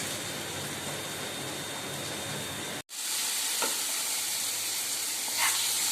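Onion, ginger and garlic frying on a low gas flame, stirred in a pan while the mixture cooks for chicken keema rolls; a continuous close hiss with occasional spoon scrapes, a brief dropout midway, no voices.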